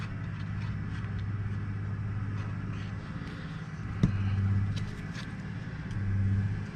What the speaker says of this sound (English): they're just ripping up the road